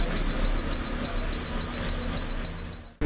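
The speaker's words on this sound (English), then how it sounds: "it will notify the officer through an alarm system" A thermal imager temperature scanner at a border crossing sounds its alarm, a steady series of about ten short, evenly spaced high beeps over a constant background hum.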